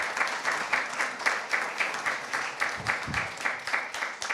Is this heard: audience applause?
yes